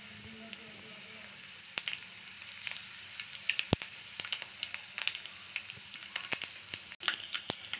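Red chillies frying in oil in a pan for chutney, with chana dal, cumin and mustard seeds: a steady close sizzle with scattered crackles and pops throughout, no talking.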